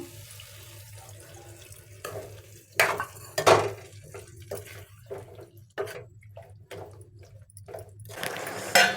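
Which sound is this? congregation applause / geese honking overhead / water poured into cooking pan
water poured into cooking pan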